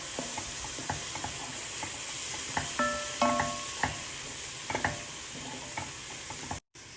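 Spoon stirring boiled lentils into fried eggplant and carrots in a pan, a steady soft sizzle under repeated scraping and clinking strokes, close and alone, with no voices.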